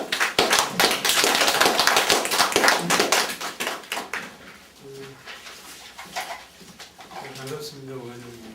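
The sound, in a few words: audience applause welcoming lecturer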